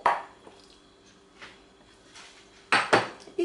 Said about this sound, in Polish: Kaszę mannę już mamy ugotowaną i teraz łączymy z jagodami.